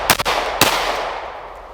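A concealed carry pistol fires two quick shots close together, then a third sharp report after a short pause, each crack ringing out briefly.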